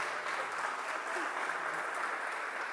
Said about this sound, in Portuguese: Você pode aplaudir a ele nessa noite.